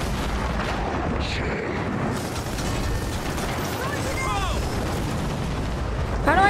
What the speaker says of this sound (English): Launch the bombs at the turret.